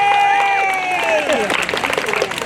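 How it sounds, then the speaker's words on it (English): A crowd at an outdoor car show applauds with steady clapping and scattered cheers, while a voice talks over the noise. "Can I hear your applause?"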